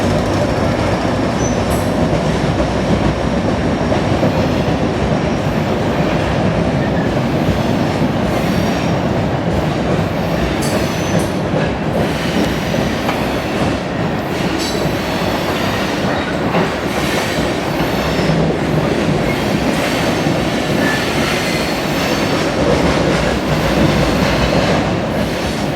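A Cincinnati Eastern gravel freight train rolls steadily past at close range, a continuous loud rumble of wagons with rhythmic wheel clatter and occasional metallic squeals throughout.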